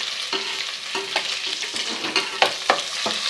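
A spoonful of garlic-ginger paste sizzles in hot oil for chicken salan, with a loud, continuous crackle broken by repeated scraping strokes of a spoon stirring the pan close up.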